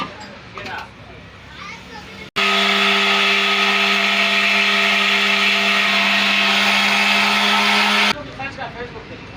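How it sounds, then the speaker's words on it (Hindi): Electric grinder whirring loud and steady for about six seconds as it grinds keema masala, starting and stopping abruptly, with children's voices and chatter before and after. "मसाला ग्राइंड करके दिखाते हैं आपको"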